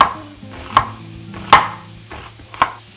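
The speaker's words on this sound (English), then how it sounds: "I'm going to cut it in half this way, and then I'll slice it very thin" A knife thinly slices a large sweet onion on a cutting board, four sharp, close chopping thuds spaced evenly apart with quiet gaps between.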